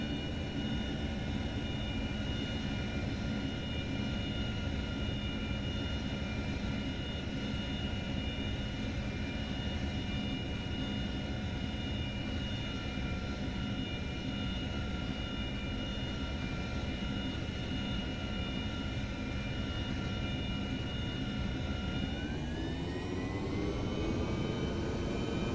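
F/A-18 jet engine in the IL-2 1946 flight game during carrier landing practice, a steady loud roar with whining tonal hum throughout, rising in pitch near the end as throttle increases, no voices.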